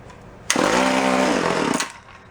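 An antique gas-powered drill engine bursts into life with a sharp start, then runs at a loud, buzzing, steady pace for over a second before cutting off abruptly, with no talk over it.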